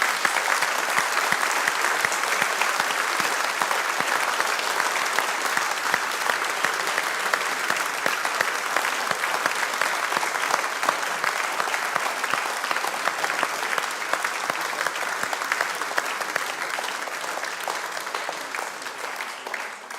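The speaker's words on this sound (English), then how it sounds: "give them a round of applause for all their hard work" An audience at an election hustings at St George's gives sustained, dense applause that continues steadily throughout and thins slightly toward the end.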